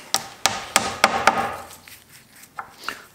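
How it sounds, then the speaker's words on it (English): Wooden wedges are hammered into the glued joints of a ledge and brace door frame for a side gate: five sharp, evenly spaced knocks, then fainter, scattered taps as the blows ease off. "And we'll hammer the wedges through."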